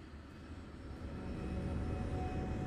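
Jet engines of an El Al jumbo jet roar steadily as the airliner climbs in flight, a smooth broadband drone that grows slightly louder and has no voices over it.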